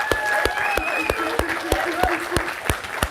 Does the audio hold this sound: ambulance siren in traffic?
no